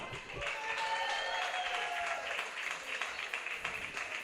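Crowd at a women's freestyle football championship applauding after a battle, a fairly faint, dense spread of clapping from a distance with voices mixed in underneath.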